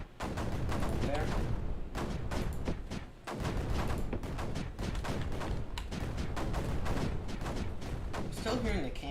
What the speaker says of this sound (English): Still hearing the cannons going